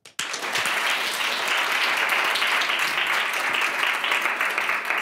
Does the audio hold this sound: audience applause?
yes